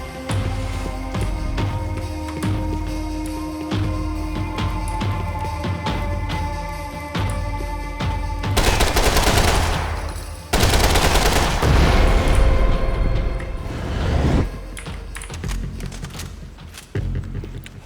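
Automatic weapon fire in the video game Max Payne 3, loud and sustained, with dense bursts and rapid volleys of shots that swell into heavier, chaotic firefights around the middle of the clip.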